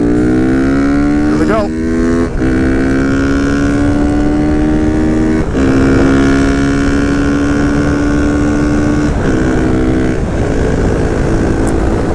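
Honda Grom or Monkey with a swapped-in CBR engine cruising on the road at about 60 to 66 mph near 7,000 RPM: a loud, steady engine drone with slowly rising pitch and brief dips at gear changes. A voice speaks briefly.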